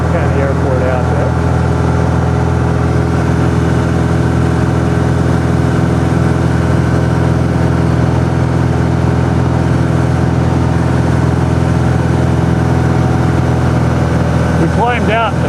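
Light aircraft's 140 horsepower engine at full climb-out power near 2,500 RPM, a loud, steady, unbroken drone filling the cabin, with brief voices at the start and end.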